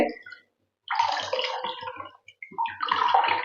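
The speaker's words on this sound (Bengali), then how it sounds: "এই জলটা এখন আমি ফেলে দিচ্ছি এই মুহূর্তে" Water drained from freshly made chhana (cottage cheese) being poured away, a loud splashing pour in two bursts separated by a brief pause, close and alone with no talk.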